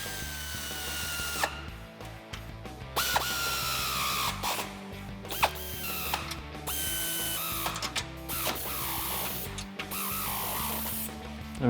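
Sway bar end link bolts being tightened on a 2005-2014 Mustang with Whiteline adjustable sway bars, heard as steady mechanical ratcheting and tool whirring with short pauses between bursts, close by and with no talking.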